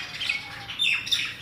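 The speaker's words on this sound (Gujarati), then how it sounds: "એ કાબરો બોલી રહી છે।" Mynas call just outside a window with harsh squawks and chirps, a couple of bright whistled notes, sounding moderately close and clear over a quiet indoor background.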